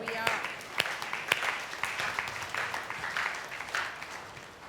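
A congregation claps at a Sunday church service, with scattered sharp hand claps and some louder strokes mixed over a voice talking throughout.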